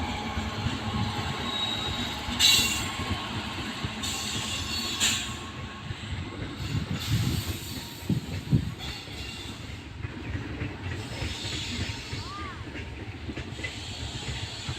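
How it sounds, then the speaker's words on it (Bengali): The Teesta Torsa Express, running with ICF coaches, rolls slowly toward New Cooch Behar station, with a steady rumble of wheels and carriages, hissing, and brief squeals and clanks coming and going nearby. "খুব ধীর গতিতে ট্রেন যাচ্ছে নিকুচবিহারের দিকে"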